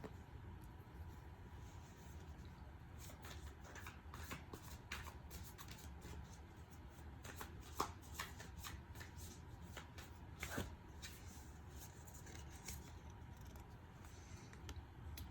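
Tarot cards are shuffled by hand during a card reading, giving a steady run of soft riffling and slapping card sounds that continue for about fifteen seconds, fairly quiet and without talk.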